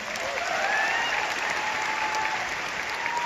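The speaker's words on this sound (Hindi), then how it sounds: "एक बार उनके लिए जोरदार तालियां" Enthusiastic applause from an audience honoring guests at an event, continuous clapping with a few thin whistles riding over it, steady and fairly close.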